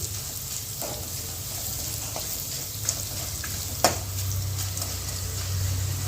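Jaggery frying in hot oil as it is gently stirred, giving a soft continuous sizzle with a few light knocks of the spoon.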